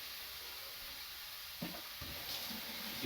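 Onions sautéing in a pan, a soft, steady sizzle and hiss heard fairly quietly, with a few brief stirring clatters near the end and no talking.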